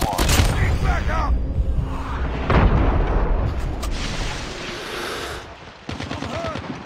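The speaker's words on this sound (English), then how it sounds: "Friendly napalm deployed" Napalm strike explosions roar in a Call of Duty match, heavy rolling booms layered with bursts of gunfire in a loud, dense battle mix, with game voices calling out over the chaos.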